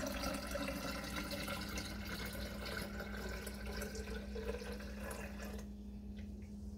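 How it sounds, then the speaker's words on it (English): Steeped coffee pours into a carafe as a steady, faint liquid stream that runs without break, then cuts off near the end. "we're going to just pour this directly into our carafe."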